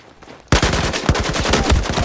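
Automatic gunfire in Battlefield 4 bursts in abruptly after a quiet moment, a loud, rapid stream of close shots and impacts filling the rest of the clip.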